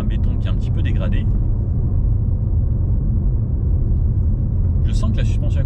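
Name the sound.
Mazda car tyre rolling noise on degraded concrete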